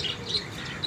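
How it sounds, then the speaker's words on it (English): Small birds chirp in a garden of potted adenium flowers, with a few light, high tweets scattered across a brief moment over soft background noise. "beautiful is the sound of chirping birds"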